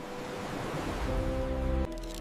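Ocean waves lapping outside an undersea cave make a soft, steady wash of surf, faint and continuous with a low rumble underneath.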